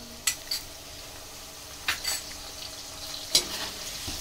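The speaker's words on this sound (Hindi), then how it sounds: "केले के चिप्स जो फ्राई हो रहे हैं इसमें हम इस घोल को डाल देंगे" Banana chips frying in hot oil at home, a steady soft sizzle with a few brief sharp clinks of a utensil stirring the pan, close and without talk.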